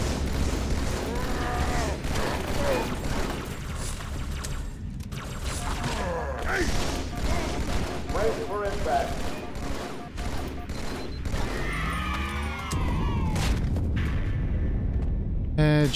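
Rapid gunfire in Halo 2, shooting out glass panes; dense bursts of shots and shattering crackle run continuously and loud, with game sounds and someone talking over the action.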